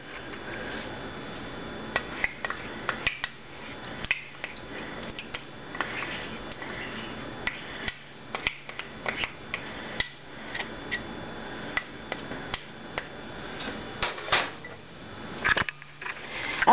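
Spoon or spatula scraping a mixture out of a bowl while making an agar coffee gelatin dessert, giving a run of close, irregular clinks and scrapes of utensil against the dish over a low hum.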